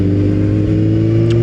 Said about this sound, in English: I ain't got time for this traffic today.